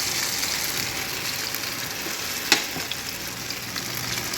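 Fish frying in hot oil in a Kerala kitchen, a continuous crackling sizzle with scattered pops and one sharper spatter midway, close and steady.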